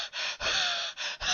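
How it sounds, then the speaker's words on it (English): Heavy, hard breathing close to the microphone, a run of loud breathy gasps with brief pauses between them, from a person with bad allergies on a phone or podcast call. "will you stop breathing hard?"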